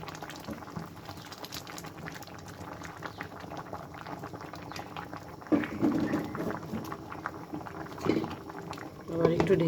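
Rice cooking in a pot of boiling water, bubbling and simmering steadily with denser bursts of bubbling in the second half; a voice talks briefly over it.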